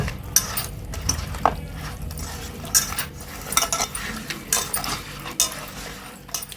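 A utensil scrapes and clinks against a pot while fish is stirred with turmeric, with soft, irregular, close knocks and a faint sizzle underneath.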